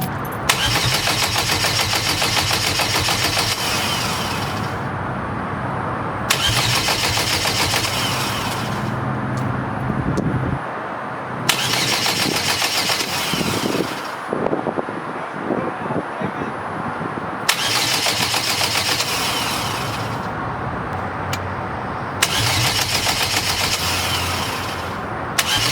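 A built turbocharged four-cylinder car engine, fitted with a cheap eBay turbo, cranks over and fires up in a garage, then runs loudly and roughly with surging revs and repeated bursts of cranking, no talk over it.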